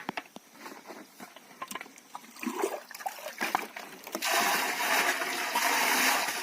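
Water pours into a large 500-litre plastic tank already holding jaggery on a farm: scattered knocks and clatter first, then a loud, steady gushing rush takes over for the final couple of seconds.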